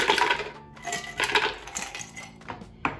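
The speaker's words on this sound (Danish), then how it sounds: "Så jeg putter lige lidt isterninger i bunden her." Ice cubes dropped into the jar of a Sage Bluicer Pro blender clatter and clink against each other and the container in several sharp bursts, close and loud, with no talk.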